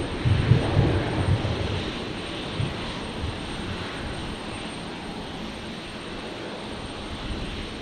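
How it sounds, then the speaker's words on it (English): A Virgin Australia Boeing 737 arriving from Melbourne touching down on the runway at Brisbane International Airport: a distant, broad jet roar that is loudest at first and then settles into a steady fading rumble, with no voices. "That was Virgin 347, just touching down in the background there."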